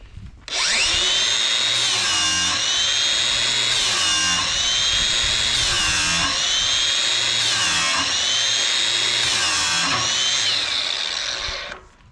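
A knife blade drawn repeatedly through a sharpener, a steady, continuous grinding scrape with a rhythmic pattern of strokes roughly every two seconds, loud and close, with no talking.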